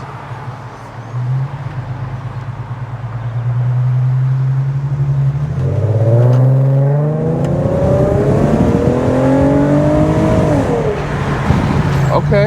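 An Infiniti Q50 fitted with a Megan Racing Y-pipe idles and then revs up under throttle, its engine note rising loud and close as it accelerates, with a brief spoken word near the start.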